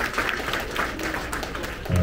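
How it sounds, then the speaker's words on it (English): Audience applause for student authors on stage at a 6th grade promotion ceremony at Woodbury Elementary School, steady clapping running the full two seconds, with a louder burst at the end. "Round of applause for our authors on"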